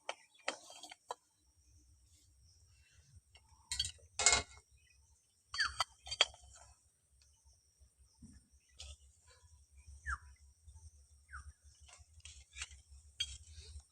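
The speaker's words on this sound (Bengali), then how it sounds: "ঠান্ডা জলের মধ্যে ডিমগুলো দিয়ে দিয়েছি" Boiled eggs are set into cold water in a quiet kitchen, giving a handful of faint clicks and taps of shell against a bowl, scattered irregularly with pauses between them.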